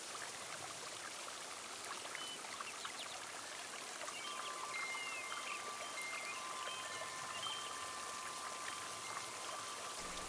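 Continuous rainfall with a constant hissing patter, and birds chirping faintly amid the downpour partway through.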